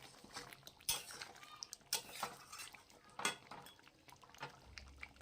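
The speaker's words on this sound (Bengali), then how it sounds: "গরম মশলাটাতে দিয়ে এখন ভালো করে নাড়িয়ে নেব।" Spicy chicken curry being stirred in a pan after garam masala goes in, with repeated scraping clinks of a spoon against metal, a few sharp louder knocks, and a soft sizzle underneath, close and fairly quiet.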